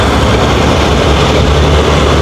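A metro train passing in Chennai makes a loud, continuous, close rumble of heavy rolling noise that fills the whole stretch without letup. No voices are heard.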